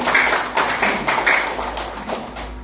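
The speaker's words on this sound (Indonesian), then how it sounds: "Tepuk tangan, ayo." Church congregation clapping hands in a steady, roughly even rhythm, several loud synchronized claps close to the microphone with a low hum underneath.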